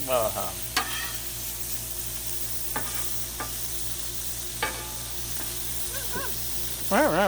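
Sausage sizzles steadily on a Blackstone griddle, with sharp scraping strokes of a spatula stirring it at intervals and a few brief higher clinks near the end.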